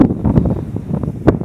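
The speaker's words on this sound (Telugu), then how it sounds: "గాలి విపరీతంగా వేస్తుంది." Strong wind buffeting the microphone atop Sigiriya Rock, a fifth-century royal fortress rising from jungle in Sri Lanka, with a steady close rumble and sharper gusts near the start and end.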